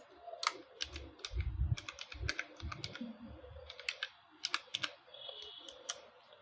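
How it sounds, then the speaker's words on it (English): Typing on a computer keyboard, a quick run of close clicking keystrokes in uneven bursts with a few heavier taps, heard alone and fairly quiet. "And hit enter on your keyboard."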